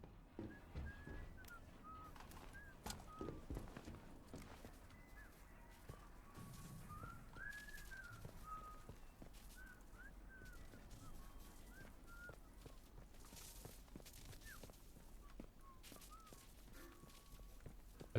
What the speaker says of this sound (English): There's some whistling.